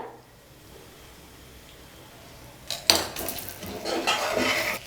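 Pepper and cumin powder being mixed into oil in a pan, heard as a quiet stretch followed by clattering utensil scrapes and clinks against the pan that continue steadily to the end, with no talking.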